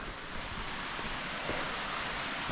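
A 40-metre waterfall in Nicaragua pours as a steady, dense broadband roar, continuous and fairly close throughout with no talking.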